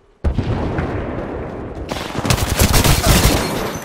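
Sustained automatic gunfire in the Apex Legends battle royale game: a sudden loud burst of rapid shots begins and keeps going, thickening into heavier, overlapping fire with booming impacts toward the end.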